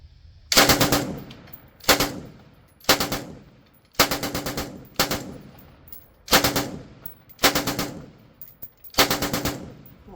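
An Ultimax 100 light machine gun firing close and loud in seven short bursts of rapid shots, each burst cutting off sharply, with quiet gaps and lingering echoes between them.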